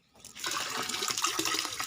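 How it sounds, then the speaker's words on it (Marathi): Water pouring into a household storage tank, a steady splashing gush that starts abruptly after a short silence and continues without a break. "तर ही पण टाकी भरून जाईल"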